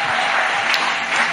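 Church congregation clapping as an offering, a brief dense wash of many hands at close range.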